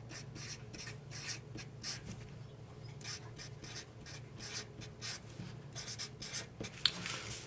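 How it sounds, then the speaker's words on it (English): A pen scratching steadily across a sheet of paper as a math problem is rewritten, with quiet, close strokes and short pauses throughout and no talk. "let me go ahead and rewrite this on another sheet of paper"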